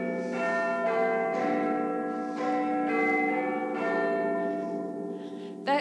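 Church-style bells ring out in a sustained, overlapping peal during a stage pantomime of Dick Whittington, the bright resonant tones swelling and renewing every second or so with no talk over them.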